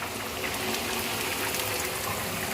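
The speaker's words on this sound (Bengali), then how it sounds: "আলুটা আবার জল ঝাড়িয়ে নিই আর কলাটা তুলে নিই।" Hot water poured off a pot of boiled potatoes in a kitchen, a steady close splashing gush running unbroken for a couple of seconds with no talk.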